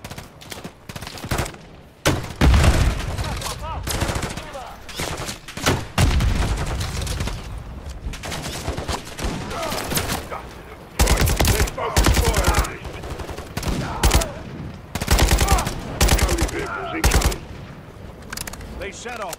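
Bursts of automatic gunfire and rapid rifle shots crackle in loud, irregular volleys during a Call of Duty Modern Warfare 3 campaign firefight in a frozen tundra, with brief lulls between heavy bursts.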